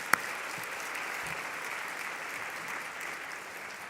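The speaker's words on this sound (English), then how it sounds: "can we give a round of applause to our keynote speaker?" Steady audience applause for a keynote speaker at a Vanderbilt School of Nursing hooding ceremony, a broad even wash of clapping held for four seconds, with one sharp close clap at the start.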